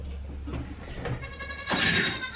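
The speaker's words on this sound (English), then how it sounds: "I didn't get to separate the baby goats from Willow and the rest of the herd till later" Goats bleating on a farm, including young kids and adults in a herd, with several overlapping bleats at close to mid range and a louder burst near the end.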